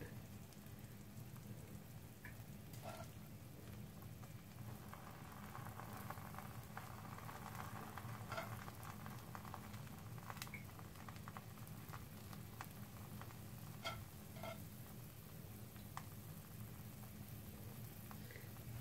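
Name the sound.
meat and peppers frying in a pan over low heat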